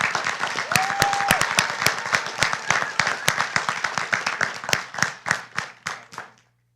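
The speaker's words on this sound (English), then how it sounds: "Please join me in a round of applause" Audience at a 2025 Craven Community College graduation ceremony claps in a round of applause, sharp individual hand claps near and far building into a steady patter before thinning out and fading at the end.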